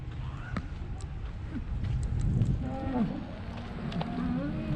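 Recently bred heifers and steers low in dairy farm corrals, with a few drawn-out moos rising over steady outdoor background noise, moderately near.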